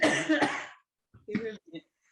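A single harsh cough close to the microphone, followed after a short pause by a few quiet spoken words.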